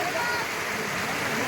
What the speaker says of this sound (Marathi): असा हा रंधा वॉटरफॉल.